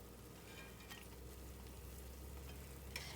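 Onion patties frying in oil give off a soft, steady sizzle that stays faint and even, with a couple of brief louder crackles.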